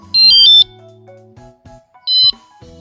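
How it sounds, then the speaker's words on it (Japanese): Anti-theft alarm on a road bike's rear tail light, switched on by remote, gives two short, bright electronic beep bursts, the second after a pause, close and loud with nothing else heard. "防犯アラームがオンの状態になります"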